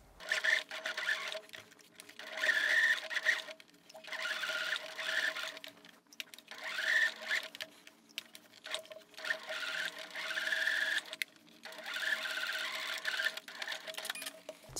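A sewing machine stitches two layers of fabric for a zip-up bustier, a quiet steady mechanical whir in repeated runs of a second or two, with short stops between them and no talking.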